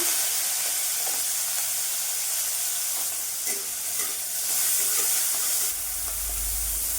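Salted, turmeric-coated shrimp sizzle and hiss steadily in hot oil in a pan, with a few stirring scrapes and a low thump near the end.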